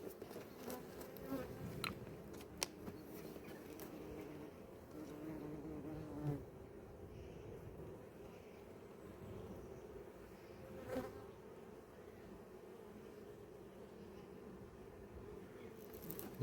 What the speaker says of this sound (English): There's a wasp that's going to get it.